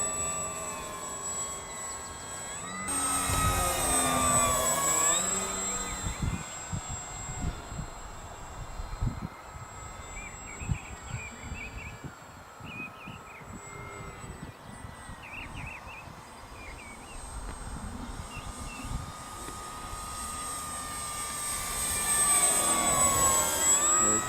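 A jet-sounding model plane engine whines overhead in light wind, a steady high-pitched roar that swells loudest as it passes near at the start and end and fades to a more distant drone in between.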